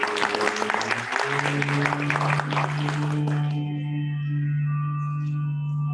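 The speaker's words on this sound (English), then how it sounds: "A big round of applause, ladies and gentlemen." Conference audience gives a dense round of applause that fades after a few seconds, leaving a sustained hum and a faint voice.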